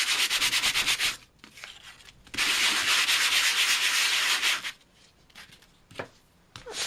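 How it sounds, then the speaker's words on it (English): Card paper with embossed areas being sanded, heard as two long, steady rasping bursts of rapid back-and-forth strokes, loud and close, separated by quieter pauses with a few light taps. "So I'm just going to sand over those embossed areas."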